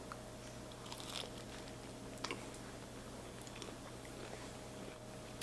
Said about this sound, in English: The outside is really crunchy and crispy, but not too crispy.